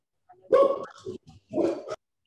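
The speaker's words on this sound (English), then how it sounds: "Somebody's dog is joining us." A dog barks indoors in a leather goods workshop, two close, loud bursts of barking less than a second apart, with no other sounds around them.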